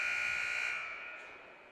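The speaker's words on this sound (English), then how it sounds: "That buzzer sounds" A loud, sustained electronic buzzer blares at a women's college basketball game at St. Vincent College, holding steady for over a second before tapering slightly, with no voices over it.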